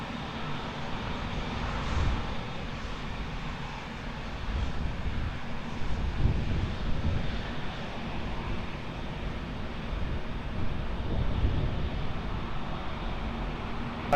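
A passenger airliner takes off from runway 20 at Lisbon Airport, a steady broadband jet roar that holds at moderate level throughout with gentle surges, heard from a distance and alone.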